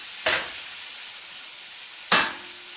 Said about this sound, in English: I'm going to sear it like this because next thing it's going to go in the oven to actually cook